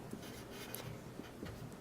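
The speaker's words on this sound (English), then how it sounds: "I'm going to write it up here" Pen or marker writing an equation by hand on a surface, faint close-up scratching strokes in short irregular bursts over quiet room tone.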